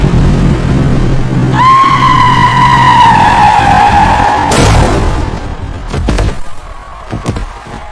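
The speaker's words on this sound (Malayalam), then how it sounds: "ടയറുകൾ റോഡിൽ ഉരസുന്ന ശബ്ദം" Car tyres skidding on a road at night, a loud rising-and-falling screech lasting about three seconds over engine noise, followed by a sharp impact-like burst and scattered clatter.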